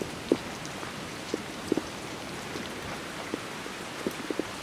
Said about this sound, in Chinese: 走着走着，雨越下越大了，希望不要遇到那种超级大暴雨。